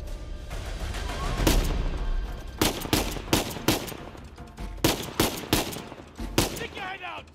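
Sniper and rifle gunfire in the video game Uncharted: A Thief's End, a run of loud, sharp cracks in irregular bursts over a busy combat backdrop, with voices faintly present.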